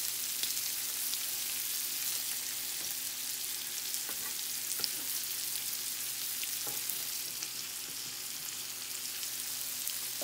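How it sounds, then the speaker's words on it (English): Butter sizzling in a pan before shrimp go in for shrimp burgers, a soft, steady crackling hiss that runs evenly throughout with no talk. "So we have our butter in the pan."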